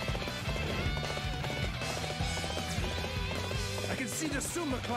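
Horse hooves gallop in a rapid, steady clip-clop rhythm in the Dynasty Warriors 8 Xtreme Legends video game, running continuously under layered battle noise and game voices.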